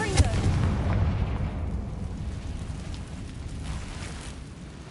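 Confringo fire spell cast in the Hogwarts Legacy video game: a sharp blast at the start, then a rumbling, crackling roar that stays loud and steady to the end.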